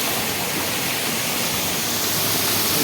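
Rushing flash flood water pouring over a washed-out approach road in Manali, a loud, dense, continuous roar with no break, very close and filling the whole scene.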